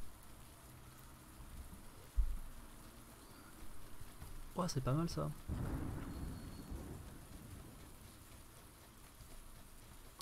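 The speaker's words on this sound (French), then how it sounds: "il se met à pleuvoir" Rain starts falling in the battle royale game PLAYERUNKNOWN'S BATTLEGROUNDS, a steady soft hiss through the clip, with a brief thump early on and a short stretch of speech near the middle.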